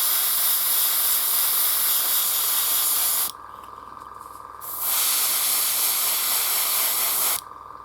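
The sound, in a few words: airbrush spraying paint on miniature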